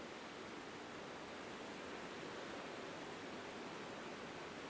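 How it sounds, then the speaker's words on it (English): A river flowing in the video game Botany Manor, a steady broadband rushing wash of water, even and continuous with no talking. "Look at this river."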